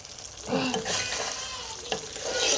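Egg korma with milk and a little sugar simmers and sizzles in a pan as a spoon stirs it in a couple of close scraping strokes over a steady frying hiss.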